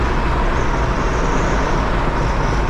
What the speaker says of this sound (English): I don't think I got my door shut all the way, so that's some of that wind noise